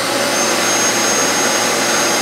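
Dyson Cinetic Big Ball Animal vacuum cleaner, owned for over two years, running with its brush bar off: a steady, loud, close motor whine and airflow rush holding constant without pause.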